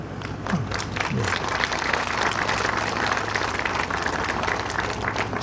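Audience applause at a groundbreaking ceremony for Chungnam public housing, a steady wash of clapping lasting throughout at moderate loudness, with a faint low hum underneath.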